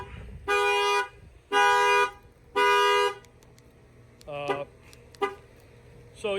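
A 2020 RAM 1500 pickup's alarm goes off after its tire is struck, blaring three long, loud horn blasts in a row, then a few shorter chirps follow, with quiet background between them.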